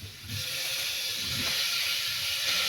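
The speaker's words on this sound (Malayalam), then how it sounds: "കുറച്ച് വെളിച്ചെണ്ണ ഇടാം. അതിൽ പാവയ്ക്ക, ഉരുളക്കിഴങ്ങ് ഇടാം." Bitter gourd and potato pieces frying in hot coconut oil for a Konkani coconut-milk curry, giving a steady, close broadband sizzle and hiss that holds for the whole stretch.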